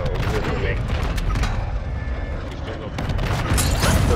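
Distant gunfire from another team in Call of Duty: Warzone 2 comes as rattling bursts and scattered shots, with a continuous game backdrop and a voice-like layer in the mix.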